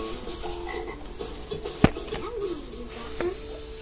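A frog croaks in an Xbox Kinect game, several short raspy croaks scattered over a few seconds amid light background game sounds, with one sharp click near the middle.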